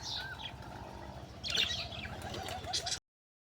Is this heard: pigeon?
yes